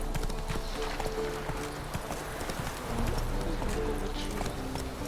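Hooves of Roach, the horse in The Witcher 3, pound in a steady galloping clip-clop that runs for the whole stretch, close and fairly loud over game ambience.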